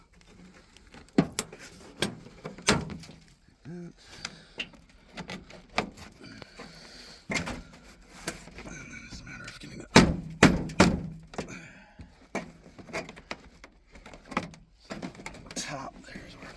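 Plastic clips pop loose from a car door panel on an old square body truck, giving a string of sharp thunks and snaps, some close and loud, amid rustling handling and someone speaking briefly.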